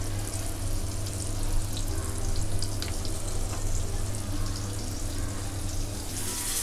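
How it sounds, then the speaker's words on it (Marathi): A stuffed mackerel coated in rice flour fries in a pan, sending up a steady, loud sizzle with crackling bursts that never lets up. "हे बघा बांगड्याची एक बाजू भाजून झाली आहे"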